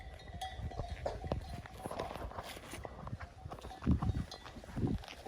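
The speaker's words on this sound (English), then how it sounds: "Holy sheep. Here they come, Rob." A herd of sheep approaches on a rainy hike route, their hooves clattering and shuffling unevenly, with heavier thumps of trampling nearby under a steady outdoor background.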